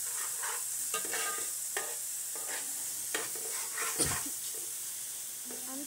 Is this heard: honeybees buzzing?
no